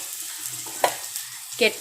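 Chopped tomatoes stirred into onions already fried nearly red in a pan, giving a low sizzle with a couple of sharp scraping stirs close by, no talk.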